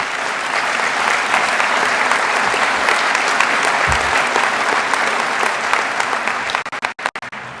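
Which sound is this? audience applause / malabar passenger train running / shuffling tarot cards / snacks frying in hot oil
audience applause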